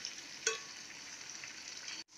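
Onions and green chillies frying in a pan for aloo matar tehri, a steady close sizzle with a small clink partway through, then a sudden brief cut near the end.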